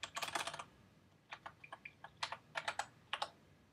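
Close, crisp keystrokes on a computer keyboard as a password is entered: a fast burst of clicks, a pause, then several short uneven runs of taps with gaps between them, with no voices.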